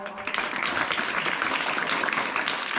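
Applause at a school winter sports competition prize-giving, a dense, steady wash of many hands clapping that holds at an even moderate level throughout with no talk over it.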